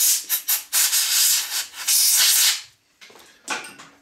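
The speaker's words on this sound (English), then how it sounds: "It's nice to be able to clean out setups with air" Air compressor blowing compressed air to clean out a machining setup while making small sine bars, heard as loud rushing hissy blasts in several bursts, with a short pause before two more puffs.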